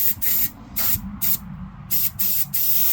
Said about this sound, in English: I'm just going to spray the whole legs and torso in this green